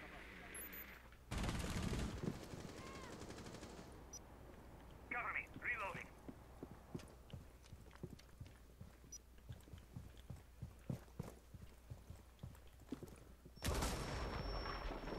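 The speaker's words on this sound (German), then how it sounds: "Da war eine Explosion." Explosion bursts and a rattle of gunfire from a round of the video game Rainbow Six Siege, with loud blasts near the start and end and scattered shots in between, under voices talking.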